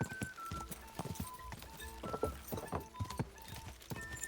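Hooves of a horse in Kingdom Come Deliverance 2 clip-clop in a steady, fairly quiet rhythm, a series of sharp close footfalls with no voices over them.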